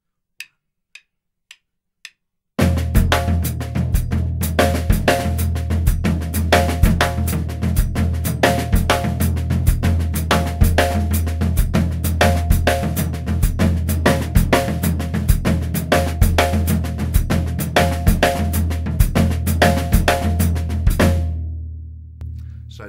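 An Afro-Cuban bembe groove on a drum kit, snare doubles accented on their first stroke over a steady ride or hi-hat pattern, played continuously for about twenty seconds after a few sparse count-in clicks, then ringing out.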